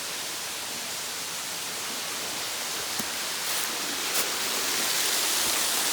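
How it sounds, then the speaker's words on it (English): A waterfall on a trail at Clark Creek Natural Area sends up a steady, even hiss of falling water. The rush is constant and moderately loud, with a couple of faint brief knocks and no voices. "So this is actually the third waterfall in this area."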